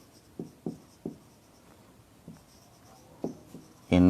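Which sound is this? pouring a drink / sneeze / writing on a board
writing on a board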